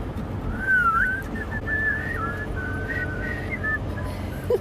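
A group of passengers whistles a tune together in Switzerland, several wavering whistled notes in rough unison carried over a steady low rumble, fairly close and without talk.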